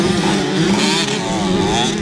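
Loud, close motocross motorcycle engines rev continuously with a raspy, buzzing roar at an amateur cross-country race.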